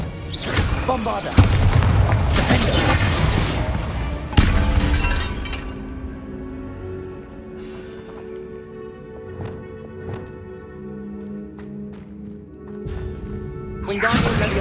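A Bombarda spell detonates in Hogwarts Legacy with loud booming blasts and rumbling debris. Several heavy hits land in the first seconds, then comes a quieter echoing stretch and another burst at the end, with a voice calling out over them.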